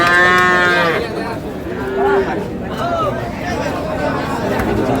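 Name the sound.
cattle mooing at livestock market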